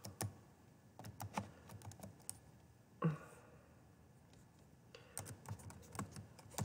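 Someone types on a computer keyboard in short bursts of quiet key clicks, with one louder clack partway through and pauses between runs, close and faint, while working in StarCraft Create.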